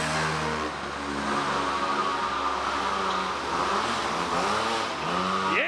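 A small Blata quad bike's engine revs up and down in a high, buzzing whine that rises and falls repeatedly, loud and close, with no talk.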